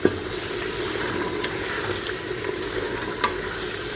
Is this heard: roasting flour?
yes